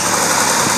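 A John Deere 4010 tractor engine runs smoothly at a steady idle, a loud, continuous close-up drone with no gaps or talk.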